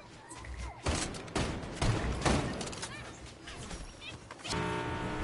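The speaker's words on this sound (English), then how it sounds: "There's gunfire over here." Bursts of gunfire in Fortnite Zero Build squads crack out several times amid a noisy mix, with a voice talking over parts of it.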